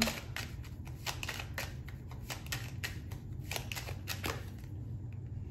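Tarot cards are shuffled by hand in a quick run of crisp, riffling flicks, near and fairly quiet, with no voice over them.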